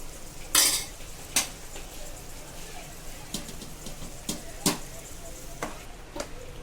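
Boiled pasta being stirred into masala in a pan, with a few sharp metallic scrapes and clinks of a spoon against the pan over a soft, steady background.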